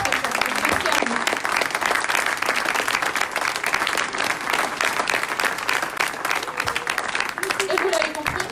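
A live audience at a Nanterre civic debate on education claps, a dense, sustained burst of applause with crowd noise throughout.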